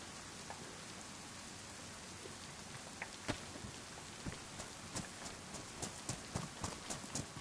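Rain falls steadily in the DayZ game world, a soft continuous hiss with scattered sharper drop-like taps growing more frequent toward the end, fairly quiet and with no voices.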